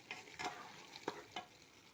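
Vegetables with red pepper, salt and ground black pepper frying in a pan, a quiet sizzle broken by a few soft stirring scrapes, with no voices.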